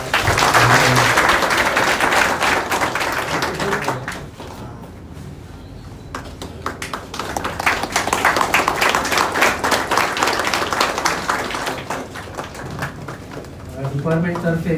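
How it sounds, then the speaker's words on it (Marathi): Loud applause rings out at a farewell ceremony as a shawl and coconut are presented. Dense clapping opens strongly, dips briefly, then surges again, with voices talking over it. "जोरदार टाळ्या वाजल्या"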